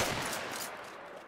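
Shotgun blasts ring out in Battlefield 1 multiplayer combat, one loud burst decaying into a noisy tail, close and alone with no talk over it.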